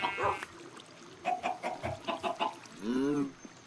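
A cartoon chicken in the video game Find the Button lets out a short run of clucks, then a rising squawk near the end, fairly quiet and heard without talk.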